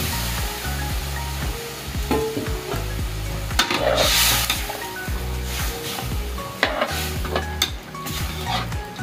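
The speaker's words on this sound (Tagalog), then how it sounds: "Lagyan na natin ng second gata." Second coconut milk poured into taro leaves cooking in a pan over a firewood stove, with steady sizzling and frying, repeated stirring scrapes and occasional clinks of a utensil against the pan, close and fairly loud throughout.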